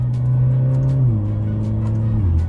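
Alfa Romeo Giulia engine and exhaust heard from inside the insulated cabin while driving: a steady, close, droning engine note whose pitch steps down twice as speed or gear changes.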